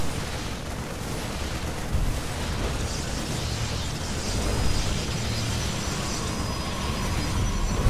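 Protoss cannons and pylons being destroyed in StarCraft 2 produce a dense, continuous wash of explosions and battle rumble, with small bursts popping out of the steady roar.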